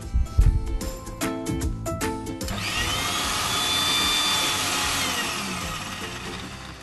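Electric mixer grinding green peas, green chillies and spices into a fine paste, starting with several sharp knocking bursts and then settling into a continuous high whirring grind, loud and close, with no talk.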